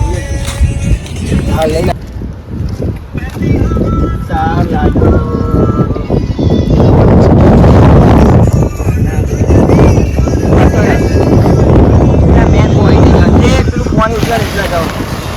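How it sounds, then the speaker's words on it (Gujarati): Steady wind rushes and buffets the microphone by the seaside, loud and continuous, cool breeze, with people talking underneath and a few faint clatters. "બહુ મસ્ત પવન આવે છે, ઠંડો એમ જેવો"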